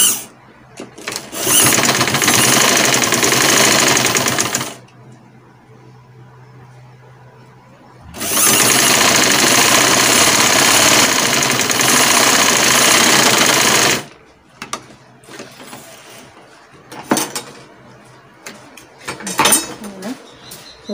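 Sewing machine stitching stretchy fabric for an off-shoulder flare dress, running in two long loud steady bursts of about four and six seconds with a quiet pause between, then a few brief clicks and handling sounds.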